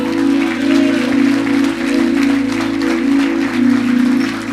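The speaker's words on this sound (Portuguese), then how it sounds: "Aplaude a Jesus aí." A church audience applauds for Jesus during a pastor's sermon, with a sustained wash of clapping over a steady held keyboard or music tone underneath.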